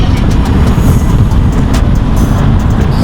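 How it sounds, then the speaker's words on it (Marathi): Steady, loud roar of tyres, wind and engine from a car cruising at about 80 to 100 km/h on the Malshej Ghat hill road, with no break in the continuous rumble. "गाडी आम्ही 80, 90, 100 क्रूज करतोय."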